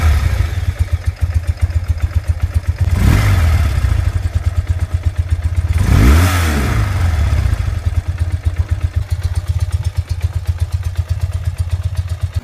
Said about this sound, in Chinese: 先大家听一下排气声浪